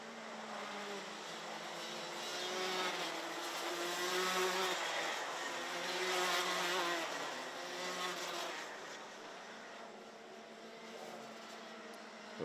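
Max Senior racing karts scream past on the Kerpen track through the Schumacher chicane, their high-pitched engines rising and falling in a buzzing, overlapping whine as the pack goes by and fades, no voices heard.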